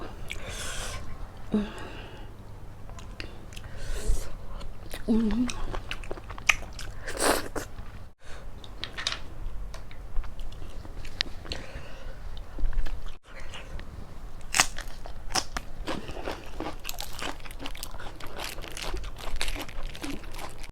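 Close, wet biting and chewing of boiled apple snails in a Thai eating show, with repeated crunchy bites and squishy mastication running steadily throughout, no talking.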